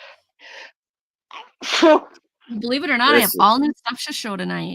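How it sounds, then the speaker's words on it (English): A sharp sneeze bursts out near the start, followed by a person talking. "So it's going to be a night of sneezes."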